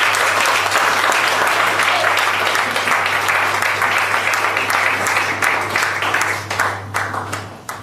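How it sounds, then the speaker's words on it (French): An audience at an awards ceremony breaks into sustained applause. The dense clapping stays loud and steady, then thins and fades toward the end, with a low constant hum underneath. "Est-ce qu'on peut encore applaudir?"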